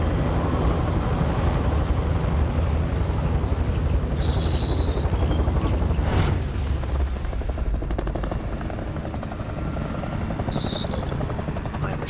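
In Call of Duty Warzone, the drop plane's engine drones as a loud, constant roar throughout, with faint game sounds over the top and a voice speaking under it.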